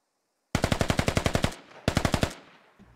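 Machine gun fire in the tactical shooter game Squad: two rapid bursts of loud, evenly spaced shots, the first longer than the second, each trailing into a short echo.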